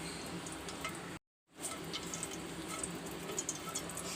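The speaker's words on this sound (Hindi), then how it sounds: "छोटी इलायची को तेल घी के अंदर थोड़ा सा पकाएंगे ताकि अच्छी से खुशबू आ जाए।" Green cardamom pods sizzle in hot ghee, a soft steady frying hiss with faint crackles and pops, broken by a brief gap of silence.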